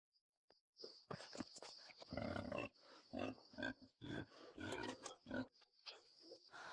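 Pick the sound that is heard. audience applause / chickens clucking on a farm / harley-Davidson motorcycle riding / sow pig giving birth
sow pig giving birth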